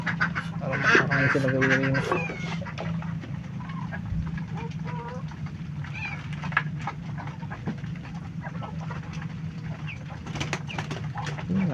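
Domestic ducks quacking together at feeding time on a farm, a busy cluster of close, overlapping calls, with someone speaking over them.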